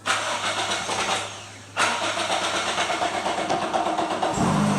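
A drift trike's small engine cranks and catches, then runs at a steady idle with a choppy rhythm, close and loud, with a brief dip before it fires.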